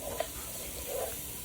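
Chopped celery, cut small, is stirred in a hot pan for a courtbouillon, giving a faint, steady sizzle and hiss with a soft scrape or two and no voices.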